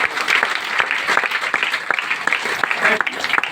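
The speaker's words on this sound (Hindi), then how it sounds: "एक जोरदार ताली इनके लिए।" An audience claps together at a talk, a dense burst of close applause that keeps going throughout with no let-up.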